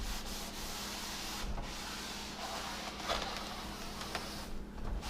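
Shop towels wiping dirt and grease off a grimy part being cleaned with Purple Power degreaser, a steady, faint rubbing and swishing that continues without a break.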